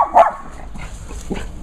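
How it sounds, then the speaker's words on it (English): A neighbour's dog next door gives a single sharp bark followed by fainter yips and whimpers, heard at a moderate distance in a quiet yard. "next door neighbor's dog."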